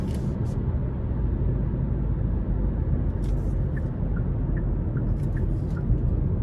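A 2024 Hyundai Kona N Line with a 1.6-litre turbo four-cylinder and 8-speed automatic drives on a road, giving a steady low engine and road rumble heard from inside the cabin, with faint clicks over it.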